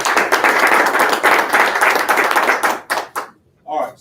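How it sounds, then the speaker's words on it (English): Small group giving a round of applause at a business bullpen session, close sharp claps in a brisk, uneven patter that thins out and stops, followed by a brief voice. "So give them a round of applause."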